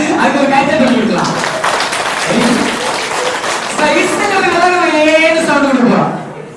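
A group claps in steady applause, partly masked by lively voices talking and calling out over it.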